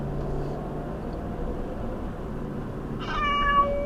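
A cat gives a single short meow near the end, heard over a steady low engine-like drone that runs through the whole clip.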